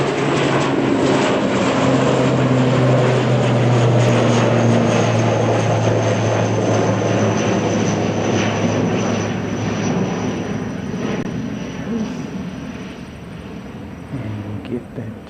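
An ATR turboprop aircraft drones loudly nearby with a steady propeller hum, the roar easing off toward the end, a voice talking over it.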